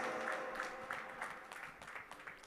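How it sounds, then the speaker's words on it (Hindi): An audience applauds to welcome comedian Shakeel Siddiqui on stage, a soft, fairly distant clatter of many hands with separate claps picking out as it thins toward the end. "एवरीबॉडी तालियों के साथ मेक सम नॉइज।"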